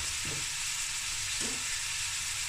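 Onions brown in a pan with a steady, bright sizzle throughout, and two brief soft stirring scrapes rise under the frying hiss.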